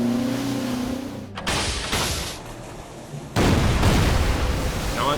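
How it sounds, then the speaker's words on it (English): A Schnellboot fires a torpedo in the naval strategy game Order of Battle: Kriegsmarine, a dull launch thud and rumble followed by a louder, sustained broadband roar that carries through to the end. "Let's go ahead and fire a torpedo with the Schnellboot."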